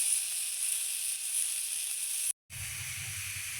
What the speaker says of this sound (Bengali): এবার দিব পরিমাণ মতো জল